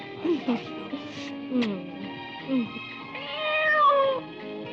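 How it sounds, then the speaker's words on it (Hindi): A cat meows several times in quick succession, short rising-falling cries close by, with a longer drawn-out meow near the end over a faint steady background hum. "अरे बिल्ली?"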